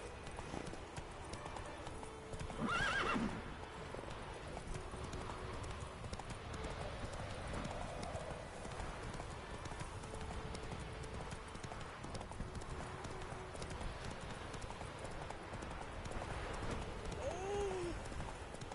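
Video game horse hooves clip-clop in a steady trotting rhythm while being ridden, moderately loud and continuous, with faint ambient game sounds behind.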